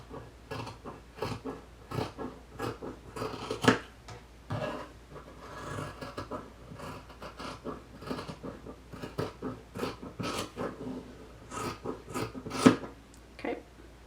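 Scissors cutting minky fabric for plush pattern pieces: repeated soft crunching snips and rubbing, close and fairly quiet, in an uneven rhythm with short pauses between cuts.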